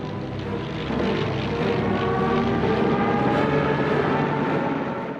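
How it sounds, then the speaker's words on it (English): Bomber and fighter planes drone past together, a dense, continuous propeller-engine roar that swells slightly and holds steady throughout. "His bombers and fighter planes overwhelmed all opposition."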